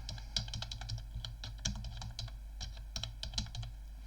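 Rapid, uneven clicking of keys on a computer keyboard during word-processor work, close and steady with light bursts of keystrokes throughout, no voices.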